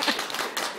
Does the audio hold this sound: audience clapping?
yes